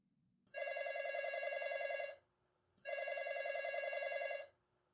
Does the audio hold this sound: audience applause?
no